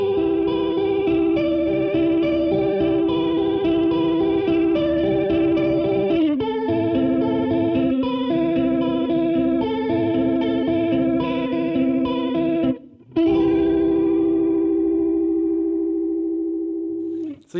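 An electric guitar runs through a Warm Audio WA-C1 chorus vibrato pedal with depth fully maxed, ringing chords wobbling and swirling for about seventeen seconds, with a brief gap before a final sustained chord that slowly fades.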